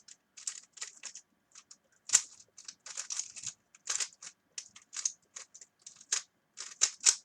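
A 3x3 Rubik's cube is scrambled quickly, its plastic layers giving rapid, crisp clicks and clacks in irregular close bursts against near silence.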